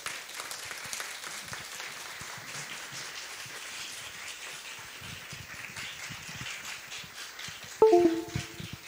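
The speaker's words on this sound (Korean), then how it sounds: "한창수 목사님께서 나오실 때 큰 박수로 맞이하겠습니다." A church congregation applauds to welcome a pastor, a faint, diffuse patter of clapping heard from a distance, steady throughout with a brief louder moment near the end.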